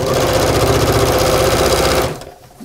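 A sewing machine stitches through a foam-stabilized tote bag in a fast, even, close hum with a rapid needle rhythm, then halts abruptly near the end.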